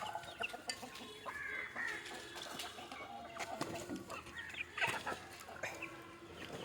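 Country chickens cluck repeatedly close by as they come to be fed bran in the evening, with scattered squawks and a rooster-like call mixed into a busy farmyard background.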